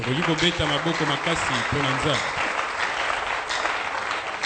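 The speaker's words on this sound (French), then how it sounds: "Est-ce qu'on peut acclamer très fort?" A church audience bursts into loud, sustained applause and cheering, dense clapping filling the hall, with a voice briefly heard over the start.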